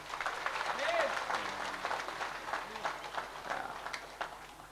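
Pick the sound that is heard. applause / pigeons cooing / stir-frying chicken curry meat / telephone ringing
applause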